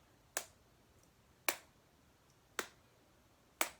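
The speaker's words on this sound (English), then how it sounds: "So the pencil tapping is the beat" A pencil taps out a steady beat, four sharp, close clicks evenly spaced about a second apart over a quiet background.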